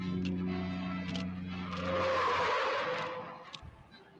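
A car in a Captain Marvel film serial skids with a long tire squeal before driving off a cliff, the screech swelling mid-clip over a low engine drone and fading out with a few clatters at the end.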